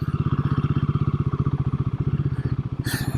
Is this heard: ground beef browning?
no